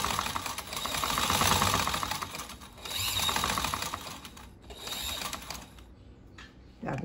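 A sewing machine runs in long continuous bursts stitching a rectangle of fabric, its fast whirring motor and needle pausing briefly between passes before stopping near the end.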